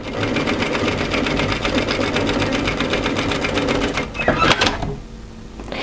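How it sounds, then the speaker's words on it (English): A sewing machine runs a second row of stitching along a knit tee dress fitted with a ball needle, a fast steady close-up chatter for about four seconds that then stops with a few handling clicks. "I find it easy to just use the foot as a guide and just sew that second row of stitching in like that."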